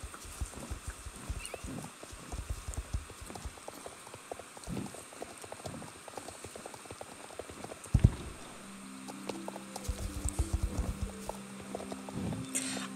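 Horse hooves clip-clopping steadily while riding in Star Stable Online, faint and regular, with a brief thump midway and a louder layered ambient tone joining near the end.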